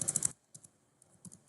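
Close, quiet typing on a computer keyboard, with a quick burst of keystrokes and then a few isolated taps separated by short pauses.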